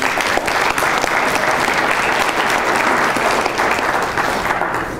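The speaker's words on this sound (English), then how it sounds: "Let's give Joel a round of applause" Audience applause at a Western New York Network of English Teachers presentation, a dense, steady clapping from a room full of people that holds loud throughout and tapers slightly at the end.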